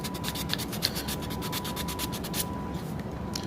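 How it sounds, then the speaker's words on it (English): 120-grit sandpaper rubs over an XTC-3D coated 3D print in quick, even back-and-forth strokes, a close, steady scratchy rasp with no speech. "With 120 grit, I find that this is my go-to for a lot of things, so it's going to sand this product pretty well"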